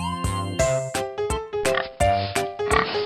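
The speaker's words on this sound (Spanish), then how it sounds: "Hoy vamos a aprender cómo se escribe y hace el puerco." A pig oinks in a quick series of short, loud grunts, close up and uninterrupted by any talk.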